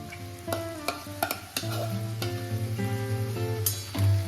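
Fried yam and sweet potato being stirred into undhiyu in a pan, with soft scrapes and clacks of a spoon and a faint sizzle over a steady tonal background hum.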